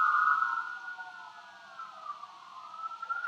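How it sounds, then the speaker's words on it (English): Emergency vehicle sirens sounding across a town, a steady wailing tone drifting up and down in pitch, moderately distant with no talk. "you're running your sirens, you got your lights on."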